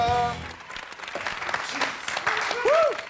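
A game show studio audience breaks into applause, a dense patter of clapping that swells near the end, with a voice and brief musical tones sounding over it.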